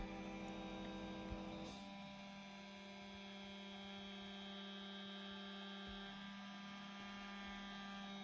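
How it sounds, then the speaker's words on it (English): CNC milling machine roughing a part with an end mill: a steady whine with strong tonal hum runs throughout, with a brief burst near the start and no talk. "With this end mill, I'm just roughing all the features"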